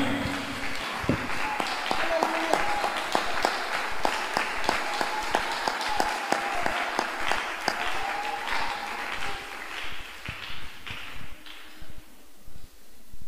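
A church congregation at a Saturday sermon claps for God, a lively burst of applause with distinct sharp claps and voices, thinning and fading out toward the end.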